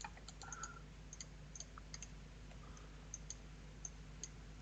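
Computer mouse clicks while working in animation rigging software, small sharp clicks scattered irregularly over a steady low hum, faint and without any talking.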